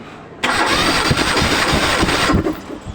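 A car engine cranked on the starter during a compression test on a light vehicle, a loud, steady whirring churn with rhythmic pulses that begins abruptly and runs for about two seconds before stopping.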